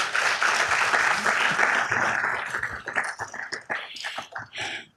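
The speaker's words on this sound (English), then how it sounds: "Round of applause for these women." Audience applause at a city council meeting, a dense burst of clapping from the chamber that thins into scattered individual claps as it dies down, with some talk mixed in.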